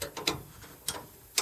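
A box wrench ratchets in a few sharp close clicks while tightening bolts on the air filter housing of a Case 1845C skid steer.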